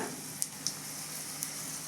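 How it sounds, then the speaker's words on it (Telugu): Drumstick leaf dal tempering hisses softly in hot oil, a faint steady sizzle with a few small pops and crackles scattered through it, with no talking. "తాలింపు అయితే పెడుతున్నానండి"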